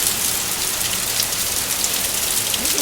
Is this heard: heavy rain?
yes